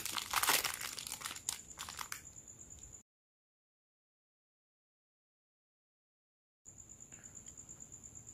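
The plastic packaging of a fake Koyo 32207 roller bearing gives close, loud crinkling bursts for about two seconds, then quiets. A dead silent gap follows before faint rustling resumes under a steady high-pitched tone.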